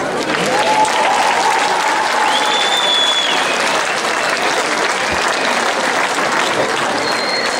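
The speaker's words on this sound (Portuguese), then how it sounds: "Palmas para eles." Steady, loud applause from a crowd at an outdoor town fair, sustained evenly for several seconds for a Portuguese philharmonic band, with occasional whistles cutting through.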